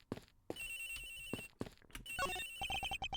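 A phone ringtone chimes inside a video game crime-scene investigation, its repeating electronic melody ringing clearly over a soft game background, with a rapid run of short beeping tones near the end.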